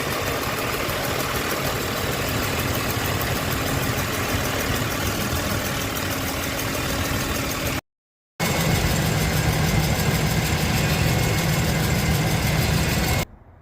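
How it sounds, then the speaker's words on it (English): A 2007 Ford F150's 4.2L V6 idles steadily and loudly, a low rumble with a faint repetitive rocker arm tick running through it, broken by one brief cut. "I've been noticing a tick, intermediate tick"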